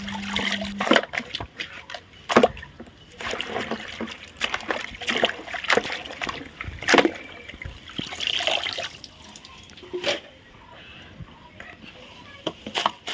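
Artificial flowers being rinsed in a basin of clean water, with splashing and sloshing bursts at irregular intervals, moderately close, amid household room noise.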